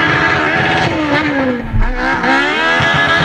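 A Honda VTEC engine revs hard and loud through the gears, its pitch climbing, dipping at a shift and climbing again, heard close with a raspy, sustained roar.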